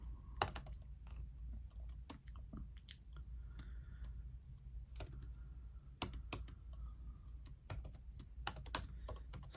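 Keys clatter steadily on a computer keyboard, close and fairly quiet, with irregular bursts of sharp clicks and brief pauses over a low hum.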